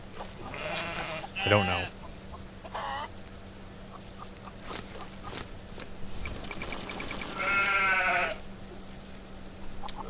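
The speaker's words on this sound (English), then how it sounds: "my sheeps cannot be louder if they wanted to be louder. Those sheeps are as loud as they ever could possibly be." Sheep bleat repeatedly in a video game, several bursts scattered between spoken remarks, with a steady low hum underneath the whole time.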